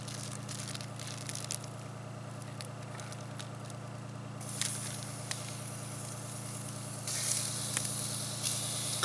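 Food cooks over an open wood fire outdoors, a steady soft sizzle and crackle with a low continuous hum beneath, occasional sharper pops and spits growing a little louder toward the end.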